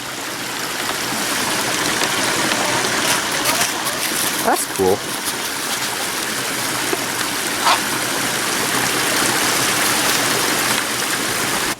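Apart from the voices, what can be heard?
small waterfall stream flowing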